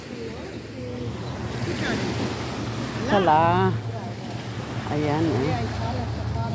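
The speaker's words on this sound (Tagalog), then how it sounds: "Yung alon naman na yan ay nanggagaling dyan sa mga barko na dumadaan." Waves from passing ships wash onto a beach on Patmos, Greece, in a steady surf with wind buffeting the microphone, while someone speaks intermittently over the water.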